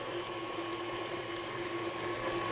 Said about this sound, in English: The mixer's been going for 2 minutes, and I'm just going to shut her down now.